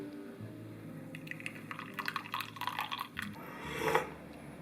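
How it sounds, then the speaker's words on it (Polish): A thin stream of coffee trickles and splashes into a small cup, quiet and close, rising briefly in pitch as it fills near the end. "I uwaga, uwaga, nalewam kawy."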